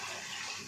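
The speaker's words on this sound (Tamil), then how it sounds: "இப்போ பச்சை தண்ணி ஊற்றி வச்சுக்கலாம்." Cold tap water running and gushing steadily into a pot of boiled eggs, a continuous close splashing wash with no talk.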